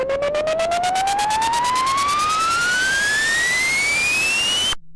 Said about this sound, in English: that's a pretty cool little riser